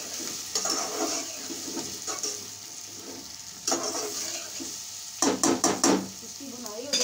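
Ginger paste fries in a hot pan as it is stirred, giving a soft, steady sizzle broken by several sharper bursts of scraping and spattering near the end.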